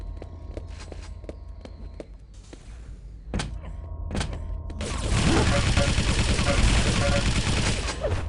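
Video game railgun shots and frag kills ring out in sharp, separate bangs, then a dense barrage of gunfire and explosions takes over and roars on continuously.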